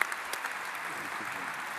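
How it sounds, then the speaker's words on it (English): Audience applause at a World Energy Congress keynote in Istanbul, a fairly quiet, steady patter of clapping from a conference hall, with faint voices underneath. "Nice round of applause for His Excellency Khalid al-Falih of Saudi Arabia."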